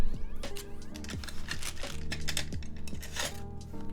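Rapid clacky keystrokes on a rattly mechanical keyboard, a steady close flurry of sharp clicks with a metallic, jangly edge, no voices over it.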